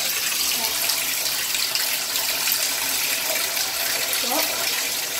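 Tap water running steadily from a faucet, filling a container with lukewarm water, a constant broadband rush throughout with no pauses.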